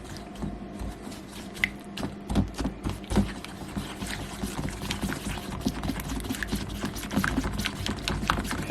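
Thick mug cake batter stirred and scraped with a spatula in a mug, a steady run of soft wet smacks and scraping strokes at close range, with no talking.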